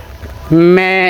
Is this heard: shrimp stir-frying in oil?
no